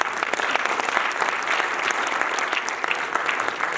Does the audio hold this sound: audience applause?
yes